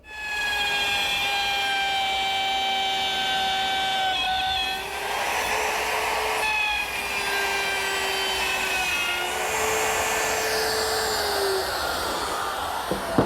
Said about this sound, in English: as I run the router bit into the end of the material